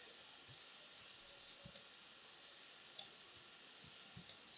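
A computer mouse clicks about a dozen times at an uneven pace while an image is edited in Illustrator, each click sharp, faint and close against a quiet background.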